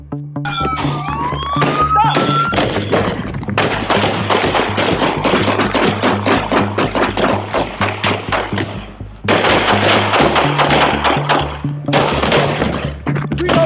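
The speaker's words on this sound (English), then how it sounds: "Shots fired!" Rapid gunfire erupts during a police shooting, loud dense bursts of shots in quick succession running through most of the stretch, with a brief pause midway and shouting voices mixed in.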